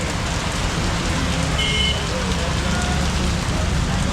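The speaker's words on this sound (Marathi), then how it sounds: "डायरेक्ट बर्फ पडायला लागलाय" Hail pelting down during a storm in Pune's PCMC area makes a loud, dense, unbroken patter that holds steady from start to finish with no break.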